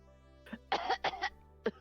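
A short burst of coughing in a video game: a small cough followed by two harsh hacking coughs and one more, close and clear against quiet.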